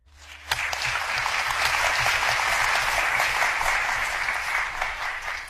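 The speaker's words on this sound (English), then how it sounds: "The room erupted in applause." A press room full of reporters bursts into applause after a president's speech, clapping starting abruptly and then swelling into a full, sustained roar of hands that holds steady before easing slightly at the end.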